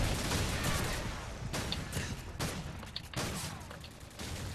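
Shotgun blasts and other gunfire fill a Call of Duty 4 multiplayer match, loud repeated shots arriving in clustered bursts over a dense battle din with no clear pauses.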